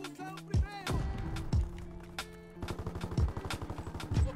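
A video game firefight with shotgun blasts: several sharp, punchy shots spaced irregularly, the later ones arriving in a quicker rattling cluster, heard fairly close with game sound effects and faint voices in the mix.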